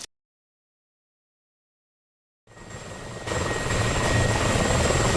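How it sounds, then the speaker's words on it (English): An Mi-24P helicopter in the DCS flight simulator game roars in after a stretch of silence, its rotor and turbine sound loud and steady to the end. "So there's Laxor, he's in an MI-24P"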